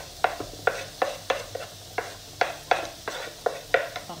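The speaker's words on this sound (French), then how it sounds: "je vais ajouter l'oignon finement ciselé" A spoon scrapes and stirs finely chopped onion frying in oil in a pan for Indian-style spinach, about a dozen regular sharp clinks over a low sizzle, close and without talk.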